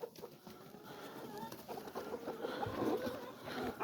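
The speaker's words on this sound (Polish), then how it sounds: "Wypuszczanie kurek i kaczek po pierwszym mroźnej nocy." Chickens and ducks are let out after a frosty night at a small farm, with faint clucks and bird calls over a steady outdoor hiss at low volume.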